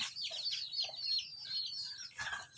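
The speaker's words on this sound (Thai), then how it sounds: "อันนี้ไก่ทั้งนั้นเนี่ย" Several chickens cluck close by in a steady, overlapping chatter of short calls, with no talking.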